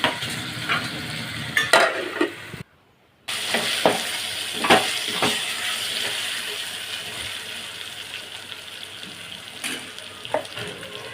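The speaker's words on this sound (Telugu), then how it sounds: "ఇక్కడ బాగా ఫ్రై చేస్తూ ఉన్నాను" Chicken frying and being stirred in a pan for chicken sherva, with a steady sizzle and scraping stir strokes that repeat at intervals. One brief silent gap breaks it early on, and no one speaks.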